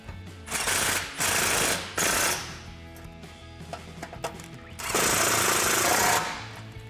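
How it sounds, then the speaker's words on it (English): A power tool fitted with a T45 Torx bit tightens the top bolts of a Rugged Ridge Venator front bumper on a Jeep Gladiator JT, sounding as loud close rattling bursts separated by quieter handling noise, with no talking. "take our T45 Torx bit to tighten down our top bolts"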